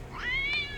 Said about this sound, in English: Where are you going, kitty? You're yelling quite loudly.